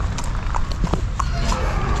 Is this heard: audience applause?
no